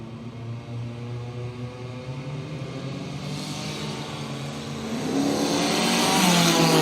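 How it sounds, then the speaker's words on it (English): A turbo-powered Gemini drag car launches at a drag strip, its engine droning steadily from a distance, then rising into a louder, harsher roar near the end. "Turbo-powered Gemini in the Rocket Industries lane"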